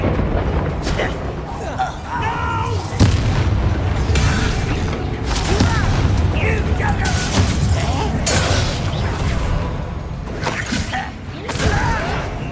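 Bombarda blasting spell from Hogwarts Legacy goes off amid dense game action, with booming impacts and crashing debris layered over a continuous loud rumble and talk.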